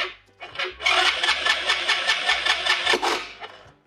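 A quad bike engine cranks over and over in a fast, rasping rhythm without catching, loud and close, then winds down.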